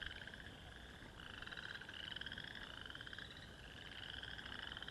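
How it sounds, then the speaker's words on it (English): A dense chorus of frogs croaks and trills continuously, overlapping calls pulsing in waves, loud and enveloping like a pond at night. "it's almost deafening with the sound of those frogs"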